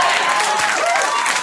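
Steady, full applause from a late-night TV studio audience during a comedy monologue, loud and even throughout with no pauses and no speech over it.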